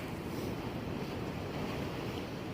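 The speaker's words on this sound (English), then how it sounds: "It's a lovely sea, lovely sea on" Sea waves wash onto rough ground along the Northumberland coast at night, a steady continuous surf roar with wind buffeting, no voices.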